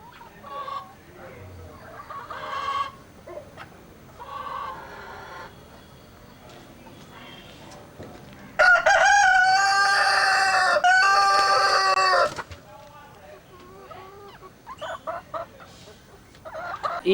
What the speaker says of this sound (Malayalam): ഇതാണ് ഞങ്ങളുടെ അമ്മച്ചിയുടെ കോഴി.